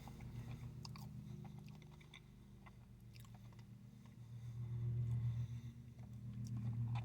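Crunchy chewing of a Hostess Kazbar chocolate caramel candy bar, close and steady for several seconds, with soft biting crackles over a low rumbling background that swells toward the end.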